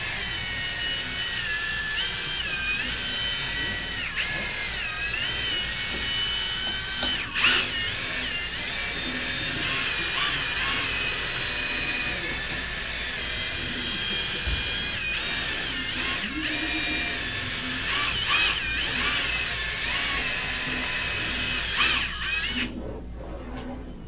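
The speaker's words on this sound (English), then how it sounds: "I'm just sitting here drilling away." A power drill whirs steadily while cleaning heavy rust out of a firearm barrel, a continuous high-pitched grinding drone that holds for the whole stretch with small pitch wavers, close and loud.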